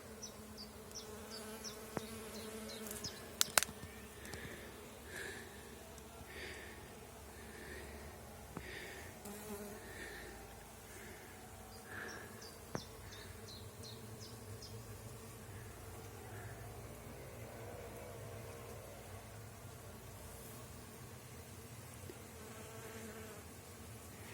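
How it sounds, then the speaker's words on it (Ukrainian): Many honeybees gathering pollen from willow catkins buzz continuously in a faint, steady drone, with individual insects passing close now and then; no voices. "дуже багато бджоли"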